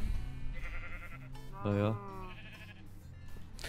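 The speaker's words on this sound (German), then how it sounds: "diese Schaf da draußen" Sheep bleating in the Minecraft video game, one clear harmonic bleat in the middle of the clip, with a person talking before and after it over game sounds.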